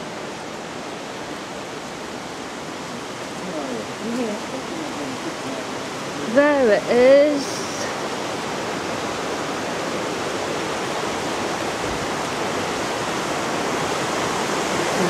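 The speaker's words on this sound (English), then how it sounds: "There's the raging torrent. I can hear it." Raging river torrent near Ingleton in the Yorkshire Dales, a steady rushing roar of whitewater that fills the whole stretch, with a few brief spoken words partway through.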